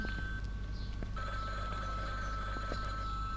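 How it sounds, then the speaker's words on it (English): A telephone rings in the horror video game Bloodwash, giving a steady electronic trill with repeated ring bursts over a constant low ambient hum. "you can just ignore that phone call"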